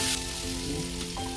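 Large-cut onions and capsicum fry lightly in a pan for chilli chicken, giving a steady close sizzle with no talking.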